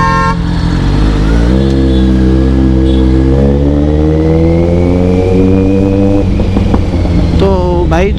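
A Kawasaki Z900 motorcycle engine revs hard under throttle in a busy market, a loud, close, sustained roar with a steady pitch that climbs and holds, then drops at the end.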